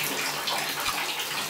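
Cold shower water runs in a steady, close hiss of spray, continuous and fairly loud with no voices.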